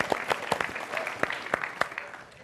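Scattered clapping from a stand-up comedy audience on a televised comedy competition stage, sharp claps in uneven bursts that thin out and fade over a couple of seconds.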